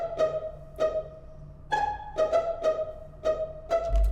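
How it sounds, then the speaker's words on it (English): Pizzicato strings from the Big Piz preset in the Expand plugin pluck a simple repeating pattern, short bright notes at a moderate pace, clear and close with nothing else playing. "Very simple pizzicato sort of string sound."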